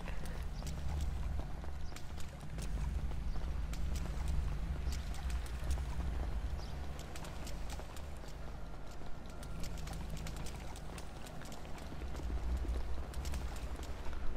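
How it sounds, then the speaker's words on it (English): Footsteps in the video game GTA V at a tuner car meet, a dense run of soft repeated steps over a steady low rumble, continuous and fairly close for the whole stretch. "I just hear like footsteps"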